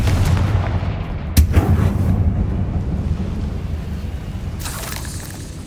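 In the Hogwarts Legacy video game, a Confringo fire spell blast goes off with one sharp explosive crack, then a long, loud rumbling boom that slowly fades under windy, roaring noise.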